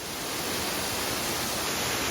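Waterfalls beside a steep hiking trail send up a continuous, even rushing roar of falling water that fills the whole short moment, with no voices.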